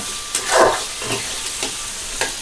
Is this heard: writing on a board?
no